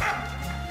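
A small dog barks in a song. One quick yap sounds over a sustained musical backing.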